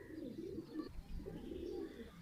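Breeder pigeons on a rooftop coo in soft, rolling phrases, two drawn-out bursts separated by a brief lull, fairly close but quiet overall.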